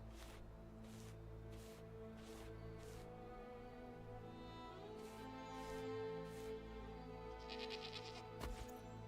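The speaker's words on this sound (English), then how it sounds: "Alright, 5 goats." Goats in the video game Enshrouded bleat repeatedly in short bursts, several calls spaced across the stretch over a low steady background hum, fairly close, with no voices.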